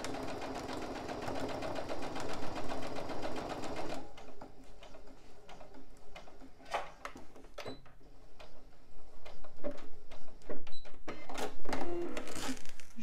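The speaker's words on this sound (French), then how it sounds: "Et je vais faire une couture à 1 cm des bords." Sewing machine stitching a seam one centimeter from the fabric edges, a fast rattling whir for about four seconds, then irregular clicks, taps and handling noises as the fabric is adjusted.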